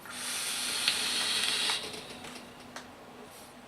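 Air is drawn steadily through a Newgen Quark RDA with its airflow fully open, giving a soft, close breathy hiss that fades slightly toward the end.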